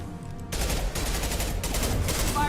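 Gunfire from the video game Mass Effect 2 breaks out after a brief quiet moment. It becomes a dense, loud fusillade of rapid shots that continues in bursts to the end, with no talking.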